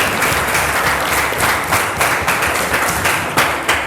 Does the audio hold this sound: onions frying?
no